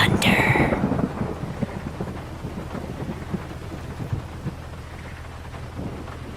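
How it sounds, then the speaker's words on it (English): Thunder effect in a Grand Theft Auto radio ad: a loud rumbling crack that rolls into a low, fading rumble with rain-like hiss, a faint voice briefly underneath. "after you get struck by lightning, there's thunder"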